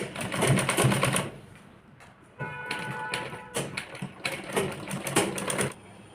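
A domestic sewing machine stitching netted blouse fabric for a princess-cut blouse runs in a few short bursts, with brief rapid clattering runs separated by pauses. No one speaks.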